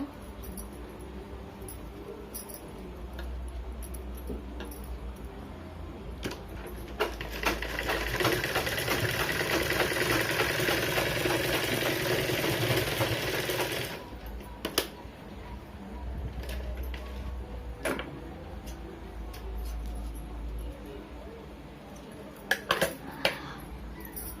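A sewing machine stitches a blouse seam at the shoulder, running in short bursts and then in one loud, steady whir of several seconds before stopping and starting again, with faint speech at times.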